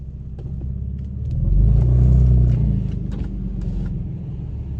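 Car fitted with a Manzo catback exhaust revving in sport mode, a deep, close exhaust rumble that swells to a loud peak and settles back to a steady idle.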